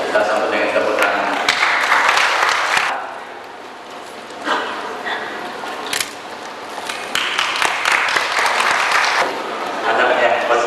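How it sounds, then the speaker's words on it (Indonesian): Applause from wedding guests for the standing bride and groom at an Indonesian ceremony, bursts of clapping that swell, dip, then return, with talk and a dog barking mixed in. "kita sambut dengan tepuk tangan"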